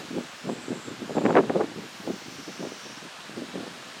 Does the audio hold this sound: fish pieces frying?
no